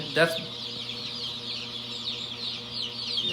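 Chicks in a hatchery brooder house holding about 600 birds, a dense continuous chorus of high peeping with a louder cluck near the start, close and steady.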